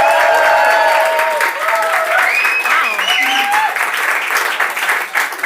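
A debate audience in a packed room applauding, sustained dense clapping from many hands throughout, with whoops and voices over it.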